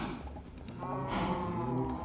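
A cow in the video game Minecraft lets out a low, drawn-out moo that swells in the middle and fades, sounding close and clear with no talking.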